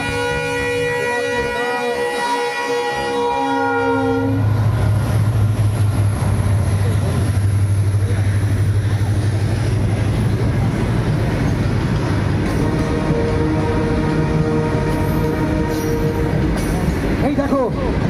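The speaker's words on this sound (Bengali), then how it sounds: "দেখো দেখো, ট্রেনটা কি গতিবেগে চলে আসছে" A train approaches at speed, first sounding a long horn blast, then a loud, building rumble and rattle of wheels on rails that stays close and heavy, with voices audible over it.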